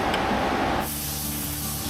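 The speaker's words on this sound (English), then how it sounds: "Open your vent cap, that's ready to spray." A spray gun hisses loudly for under a second, then cuts off, leaving a low steady mechanical hum.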